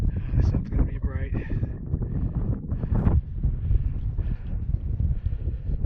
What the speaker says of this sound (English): Sorry about the wind. It's windy up here.